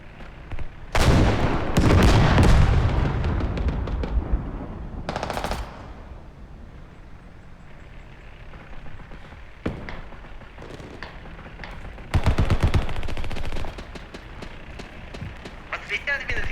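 Rapid bursts of suppressed gunfire in the video game Squad, fast rattling volleys separated by quieter stretches with scattered single shots.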